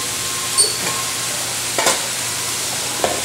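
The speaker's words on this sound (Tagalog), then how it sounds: "Lagay na natin yung ating carrots and patatas." Carrots and potatoes go into a hot frying pan for menudo in a school canteen kitchen, a steady loud sizzle with a few soft stirring knocks.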